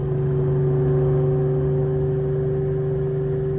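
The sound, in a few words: 2004 Ford Mustang Cobra SVT engine accelerating while driving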